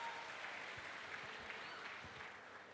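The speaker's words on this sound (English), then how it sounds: "Let's give it a round of applause" An audience applauds after a courageous performance during a conversation event with Danish Sait, a steady wash of clapping at moderate distance that holds for the whole stretch and eases slightly at the end.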